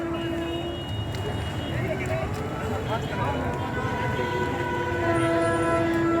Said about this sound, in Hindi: कोई ट्रेन देखिए जस्ट आ रही है और तेज़ गति से पार करने की तैयारी में गंगा के पुल